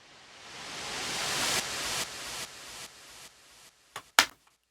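Noise riser with added delay in a dance track breakdown, sweeping up in brightness and volume then repeating in stepped echo bursts that fade, ending in short sharp hits, with no voices.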